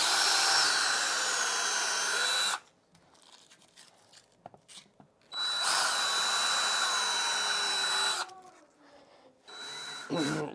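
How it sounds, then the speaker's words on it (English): A power drill bores a pilot hole through a floor outlet cover plate, giving two long, loud whining bursts of about two and a half seconds each with quieter handling noise between them, then a short third burst. "I'm going to use a slightly larger drill bit to pilot that hole"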